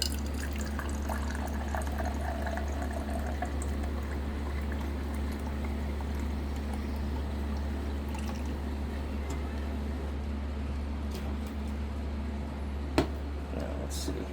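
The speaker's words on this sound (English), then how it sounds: "Let's dump that water." Water dumped out of a water dispenser being repaired, a steady pouring and splashing wash under a constant low hum, with a single sharp knock near the end.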